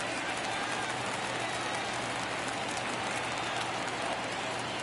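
A steady, dense baseball crowd roar from MLB The Show 22, Phillies home game in the ninth inning of a one-run game, holding at an even, continuous level throughout with no talk over it.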